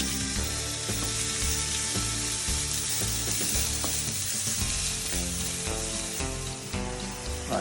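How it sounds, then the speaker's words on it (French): Shallots frying in olive oil in a pan give a loud, steady sizzle that fills the whole clip, with occasional stirring knocks and no talking. "on va verser un filet d'huile d'olive au fond de la poêle. Comme ceci. Nous allons y faire revenir les échalotes."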